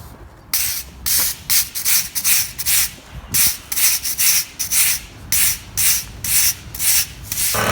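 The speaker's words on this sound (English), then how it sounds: "we're just going to use this crack broom" A stiff crack broom scrapes dirt across a parking lot surface in rhythmic, loud, close strokes, about a dozen brisk sweeps with short pauses between them and no voices.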